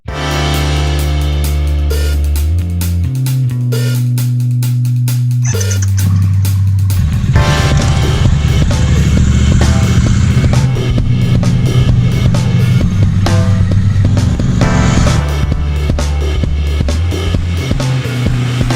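A 2020 Harley-Davidson Forty-Eight motorcycle being ridden, its loud close V-twin engine rumbling and shifting pitch through gear changes and revs across the whole stretch.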